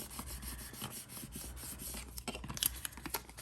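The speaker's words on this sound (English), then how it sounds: "I'm using my Cricut scraper to burnish." A Cricut scraper rubs firmly over transfer tape while burnishing a cut name onto an Easter basket craft. The scraping is soft and close, with a steady papery friction and a few sharper scratches near the end.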